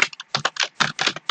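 Computer keyboard keys clattering rapidly while a code query is typed, about a dozen crisp close clicks in quick irregular bursts, with no voice.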